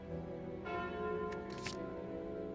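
A bell chime from the Calling Bell relic in the card game Slay the Spire, rings out with sustained ringing tones, joined midway by a few bright metallic shimmers, clear and moderately loud with no talking.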